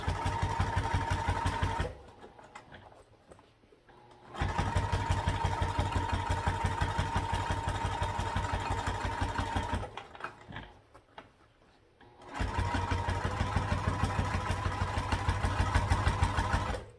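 Sewing machine topstitching pressed seams on a crossbody bag, a steady rapid needle chatter running in two long bursts with brief pauses between them, close and fairly loud, with no talking.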